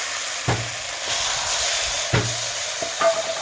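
Marinated poultry pieces with chilli paste, salt, turmeric and mustard oil are stirred in a pan, giving a few spaced scraping knocks over a steady low sizzle and hiss.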